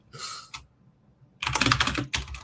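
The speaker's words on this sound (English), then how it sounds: "It's loud on this keyboard as well." Loud keystrokes on a computer keyboard in two quick bursts, a short flurry followed by a pause and then a denser run of rapid clacks close to the mic.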